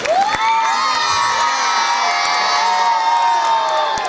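Loud crowd cheering and shouting at a school annual celebration, with high children's voices whooping over a steady roar for about four seconds.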